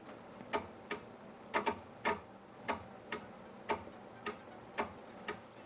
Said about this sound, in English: That's the bi-LED projector flap going up and down every time I hit the high beam.